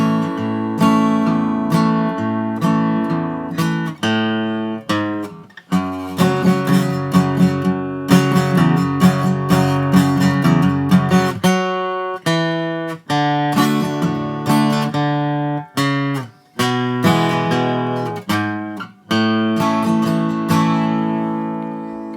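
Acoustic guitar slowly and steadily strumming the verse chords of a song, with brief pauses between chord changes, played alone and up close.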